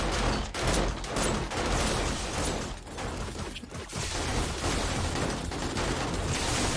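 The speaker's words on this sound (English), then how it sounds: "Romy, are you shooting me?" Sustained gunfire during a blood moon horde fight in the video game 7 Days to Die, a dense, loud, continuous fusillade of overlapping shots filling the whole stretch.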